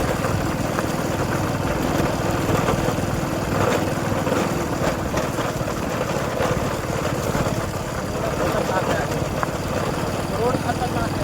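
A motorbike engine runs steadily at close range in a rural Gujarati setting, a continuous mid-pitched drone holding level throughout, with people talking over it.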